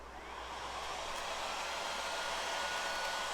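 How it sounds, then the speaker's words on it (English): A heat gun blowing hot air to shrink heat tubing during a boat trim switch wiring job, a steady loud whooshing fan roar that builds slightly and holds constant, alone without talk. "I actually got Mr. Heat Gun out. We're gonna shrink this heat tubing the right way."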